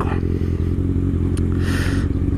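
A liter-class 1000 cc motorcycle engine drones steadily while riding around Manhattan, a loud, continuous low rumble with wind noise and brief traffic clatter, no talking.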